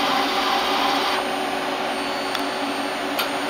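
Citizen M20 CNC Swiss lathe with its live tooling spinning, a steady close whirring hum from the machine whose pitch drops slightly partway through, with a couple of faint brief clicks.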